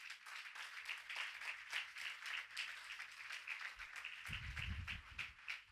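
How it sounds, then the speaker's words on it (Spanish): Church congregation applauding during a Spanish-language sermon, quiet rhythmic clapping from many hands at a distance, with a brief low rumble near the end. "Dale ese aplauso a Jesús"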